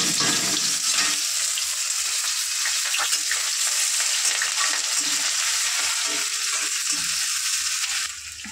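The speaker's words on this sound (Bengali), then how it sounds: "দেখতেই পাচ্ছ মাছ ভাজা হচ্ছে" Snakehead fish frying in hot oil in a pan, giving a loud, steady crackling sizzle that runs continuously with no voices.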